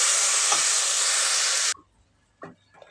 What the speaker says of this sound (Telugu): ఎండుమిర్చి పోపు వేగిన తర్వాత ఇప్పుడు మనం చేసుకున్న పచ్చడి వేసుకుందాం